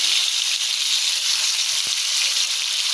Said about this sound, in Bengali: এখন কাঁকরোলটা দিয়ে দিলাম।